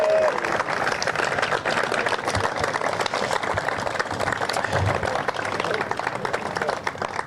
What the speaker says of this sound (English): can we please have an enormous round of applause for all of our marshals,